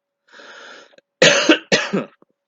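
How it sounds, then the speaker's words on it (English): Two sharp, close coughs follow a brief breathy throat sound, each burst loud and abrupt against silence. "Once again, sorry about the coughing"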